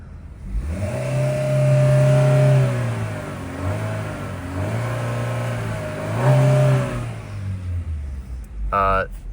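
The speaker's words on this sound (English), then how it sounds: "we'll go ahead and rev it" A 2024 Chevrolet Malibu engine revs up several times to about 4,000 RPM, rising and falling in pitch with a steady idle between pulls, loud and close, ending with a brief clatter.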